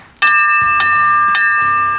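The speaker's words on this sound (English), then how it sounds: "You have bells up top to warn everyone of a fire" A loud metallic fire truck bell, mounted on a Land Cruiser fire truck, rings three times in an even rhythm, each strike sustaining a bright ringing tone that blends into the next.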